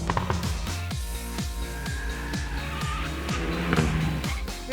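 A Hyundai i30N hot hatch engine on a race track, revving up and dropping back in a steady run of gear changes with tyre noise under it, close and sustained.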